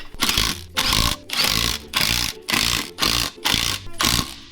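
An impact wrench tightening the bead lock ring bolts on an off-road wheel with BF Goodrich KM3 tires, firing in seven loud rapid bursts with short pauses between them, close by and with no talking.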